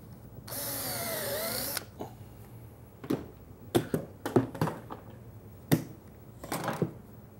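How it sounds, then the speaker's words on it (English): A power drill fitted with a VIX self-centering bit bores a pilot hole in a wooden face frame cabinet side, giving one steady whirring burst of about a second, then close clicks and knocks as the bit is repositioned. "I'm using a VIX bit, just a brand name, but this is a self-centering bit"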